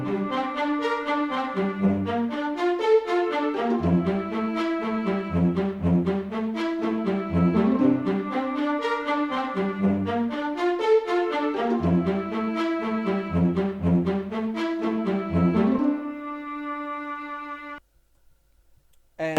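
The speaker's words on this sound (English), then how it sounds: "a violin from Expand playing a new melody, as well as a spiccato string from Expand playing the same chords" An Expand violin plays a melody over arpeggiated Expand spiccato strings on the same chords, forming a lush, steady cinematic R&B loop with bouncing short notes, loud and alone, ending on a sustained chord and a brief silence.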